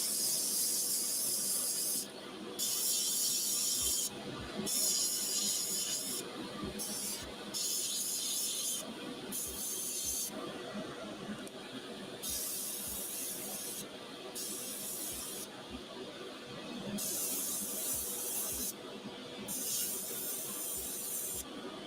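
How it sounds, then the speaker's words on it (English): Airbrush spraying paint on miniature models: a steady close hiss of air that switches on and off in repeated bursts of a few seconds each, with a low motor-like hum running underneath. "the airbrush will get us most of the layers we need right off the bat here for these models"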